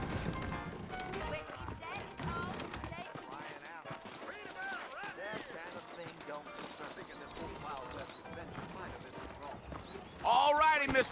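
Saddled horses in the Red Dead Redemption video game clip-clop along in a steady rhythm of hoofbeats, with character dialogue spoken over them and a louder burst near the end.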